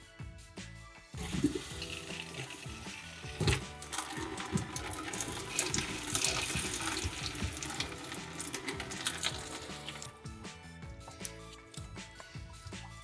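Water rushing steadily from the spout of a newly installed Delta single-handle pulldown bathroom faucet as the lines are flushed, a continuous hissing splash with a few clinks near the start.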